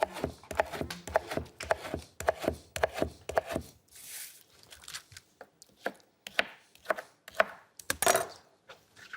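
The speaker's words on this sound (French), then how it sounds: "Le chef découpe déjà son sablé tout juste sorti du réfrigérateur en petits cubes." A chef's knife chops chilled sablé biscuit into small cubes on a board, a rapid run of crisp, close, sharp taps that thins to sparser cuts with short pauses, with no talk over it.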